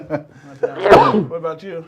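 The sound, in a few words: sneeze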